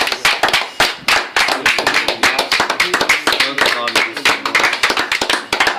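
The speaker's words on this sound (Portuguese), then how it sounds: "Pode aplaudir o Senhor." A church congregation at a sermon held inside a company claps steadily in rhythm, loud and close, the sharp hand claps running the whole time with voices mixed in.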